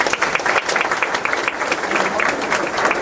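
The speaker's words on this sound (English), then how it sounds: "Please give these people a round of applause." Audience applause at an athletic hall of fame recognition event, with steady dense clapping throughout and no talk over it.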